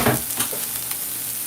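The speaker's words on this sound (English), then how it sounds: "let me open this package up quickly and add it to the griddle" Impossible ground beef sizzling on a hot griddle, a loud, close, bright hiss with a quick crackle and stir at the start, then steady frying.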